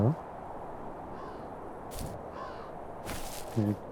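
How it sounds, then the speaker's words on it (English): A crow caws in the video game The First Tree, short raspy calls heard faintly against a steady ambient wash, with brief louder bursts near the start and end and no talking. "The crow's like eating it, eating this body or something."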